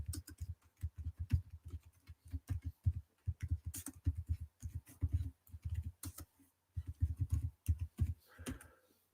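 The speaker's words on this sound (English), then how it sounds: "I'm actually going to quickly type it in now" Quick typing on a computer keyboard, a dense close run of soft key clicks in uneven bursts with short pauses, quiet and alone.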